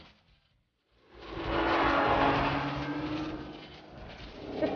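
After a brief silence, a Honda NSX VTEC engine surges into a loud, sustained roar above about 5,000 revs that holds high, eases slightly, then climbs again at the end.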